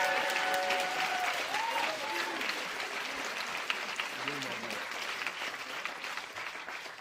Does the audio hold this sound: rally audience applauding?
yes